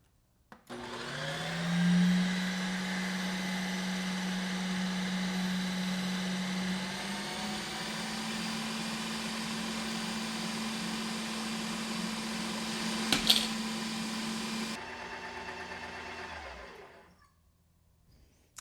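A Ninja Creami ice cream maker running with its blade spinning freely after the blade has dropped off, a steady motor whine that rises at startup, holds for about twelve seconds with a brief click, then stops.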